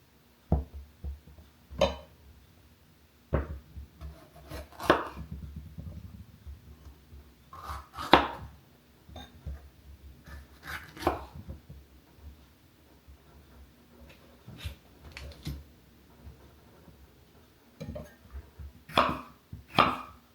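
A knife slices small, washed vegetables on a cutting board during weekly meal prep, giving sparse, sharp taps spaced irregularly, loud and close, with quiet pauses between the cuts.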